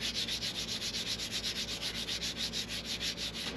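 Rhythmic back-and-forth rasping of sandpaper on a wooden parlor guitar, quick even strokes repeating steadily, close up with no voices.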